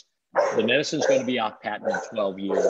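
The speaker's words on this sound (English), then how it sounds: "that's my dog all barking" A household dog barks somewhere in the room during a podcast interview, the yaps blending under a man's continuous close speech.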